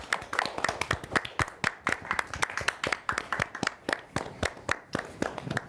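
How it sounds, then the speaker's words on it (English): A small campus comedy-show audience claps in a quick, irregular patter of separate hand claps, close and fairly thin rather than a thick roar. "Clap for yourselves, please."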